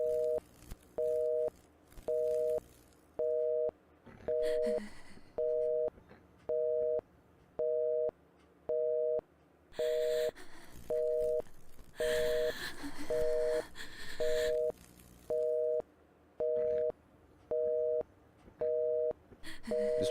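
A telephone busy tone repeats steadily in the horror RPG You've Been Chosen, about seventeen evenly spaced beeps, with faint breathy and noisy bursts rising in the background midway.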